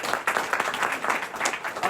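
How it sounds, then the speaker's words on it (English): Audience applause closing a final lecture in a hall, dense steady clapping from many hands throughout, with faint crowd murmur mixed in. "I want to give all of you a big round of applause for going on this journey with us"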